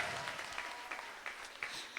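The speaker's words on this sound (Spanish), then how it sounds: "démosle un aplauso a Vale" A live women's panel audience applauds a newly introduced guest, the clapping faint and distant, with scattered sharper claps over a soft hiss.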